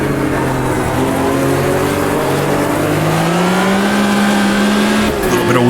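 Corvette race car in Automobilista 2 accelerating hard with wheel spin, a loud, close engine roar whose pitch climbs steadily through the gear, with several cars droning around it and a brief drop near the end.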